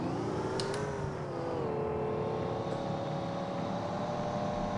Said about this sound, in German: Muss man jetzt ein bisschen am Gas gehen.